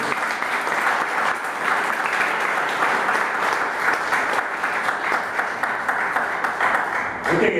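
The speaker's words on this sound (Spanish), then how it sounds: "Denle un aplauso fuerte al Señor." A church congregation applauds in a dense, sustained wash of clapping that stays loud and steady for several seconds before easing off at the end, with some voices mixed in.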